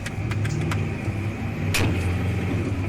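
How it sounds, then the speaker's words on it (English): Objects thrown at a work truck strike it with a few sharp bangs, several quick knocks early and one louder clatter later, over a steady engine and road rumble. "That banging you can hear is the things being thrown at the truck."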